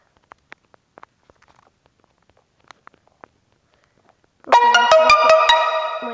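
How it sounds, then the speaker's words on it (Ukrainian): A phone message notification ringtone rings out loudly during a Minecraft play session, a bright repeating melodic chime that breaks in after a few quiet, scattered clicks and keeps sounding. "Блін, у мене якесь там повідомлення прийшло."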